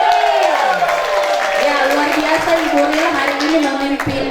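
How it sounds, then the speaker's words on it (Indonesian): Applause from a crowd at an Easter celebration fills the space, steady and fairly loud, with a voice or music carrying over the clapping throughout. "Tepuk tangan dulu buat Ibu"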